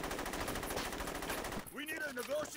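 Rapid automatic gunfire from Saints Row 2, loud and continuous for about a second and a half, then breaking off into a voice speaking over fainter game sounds.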